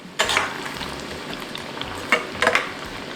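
Battered tofu fries in a pan, a soft steady sizzle broken by brief scraping clatters as it is stirred up and down, close and fairly quiet.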